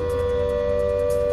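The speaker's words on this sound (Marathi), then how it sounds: "दादरमधील डिसिल्वा शाळेमध्ये सायरन वाजवण्यात आलेत आणि सायरन वाजवून शाळेतील सायरनबाबत तपासणी देखील करण्यात आली आहे।" Civil defense siren tested at a school in Dadar ahead of a mock drill, a steady loud wailing tone holding throughout without speech.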